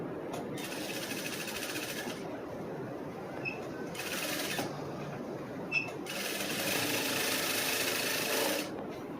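A sewing machine stitches the front panel of a cross-cut blouse in several sustained runs of steady whirring, broken by short pauses with faint clicks between them, close and fairly quiet.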